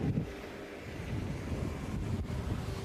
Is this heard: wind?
yes